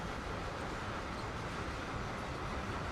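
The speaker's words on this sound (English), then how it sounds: "I do have a train coming. First of the day. I hear it" A steady, distant rumble of an approaching train, a continuous low roar without distinct clacks or horn.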